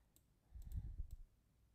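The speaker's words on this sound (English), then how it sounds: "If you're wondering why my keyboard's so loud, it's because I got a new keyboard" A new, loud computer keyboard clicks in a short burst of a few keystrokes during video editing, close but fairly quiet, with no talk.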